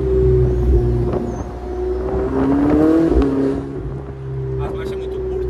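A Bentley's engine drops a gear and then pulls hard from inside the car, the revs climbing in a rising whine over a steady low rumble before settling back down.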